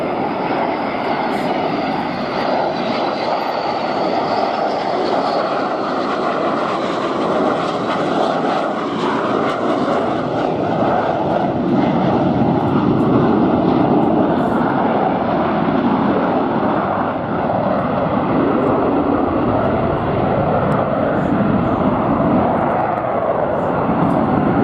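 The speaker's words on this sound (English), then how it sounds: "The afterburners on the two Snecma M88-2 afterburning turbofan engines." Two Snecma M88-2 afterburning turbofan engines roar with afterburners lit at an air show, a loud continuous broadband thunder that swells and rumbles steadily throughout.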